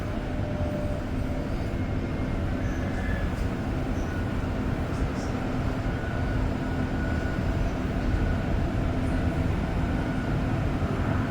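REM light metro train riding between Central Station and Brossard in Montreal, heard from inside the car as a continuous rolling rumble with a faint steady whine, even and moderately loud throughout, with no talking.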